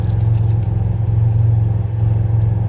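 A Ford Capri V6 engine with a bandaged exhaust running close up, a loud, steady low rumble with an even pulsing beat and a slight swell in the middle, no voices over it.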